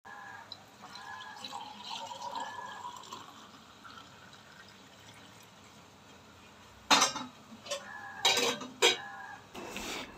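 Washed dishes and cutlery are put away in a home kitchen, first as faint soft clinks and water trickles, then a few louder close clatters of pots and plates near the end.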